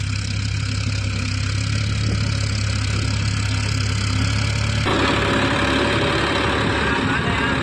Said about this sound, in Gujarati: હા ટ્રેક્ટર આવી રહ્યો છે